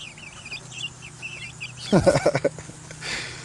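Fed backyard chickens clucking, a flurry of loud, close clucks and calls lasting about half a second, preceded by faint chirping in the background.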